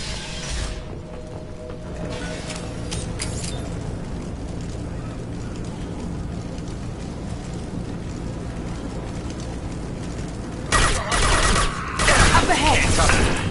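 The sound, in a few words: gunfire in video game Mass Effect 2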